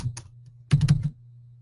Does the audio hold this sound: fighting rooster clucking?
no